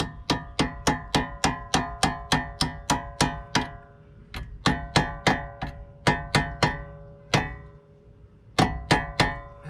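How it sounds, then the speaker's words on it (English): Rapid series of light metallic hammer taps on a 2011 Nissan Altima 2.5 SL front strut assembly, evenly spaced in quick runs with brief pauses, bright and close, no voices. "Should be able to just take a little hammer and just give it a little"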